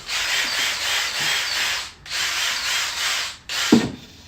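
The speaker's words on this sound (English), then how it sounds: "I am just going to drill a quick hole and I'm going to make some noise" A power drill whirs loudly in two sustained bursts of about two seconds each, stopping briefly between them, followed by a short clunk.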